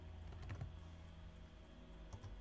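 Faint computer keyboard typing, a few soft key clicks in a quiet room over a low steady hum.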